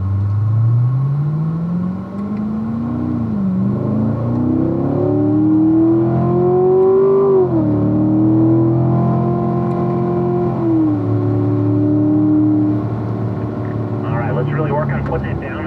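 A 2018 C7 Stingray Corvette with a manual gearbox pulls away on a race track, its engine note climbing steadily through the revs, loud and close, dropping briefly at the gear changes.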